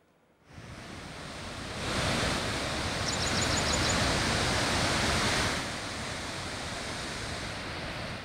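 Water roaring out of eight opened gates at the Lower Dudhna dam project in Selu, Parbhani, a dense, loud continuous rush that swells after a moment and holds steady, with no speech.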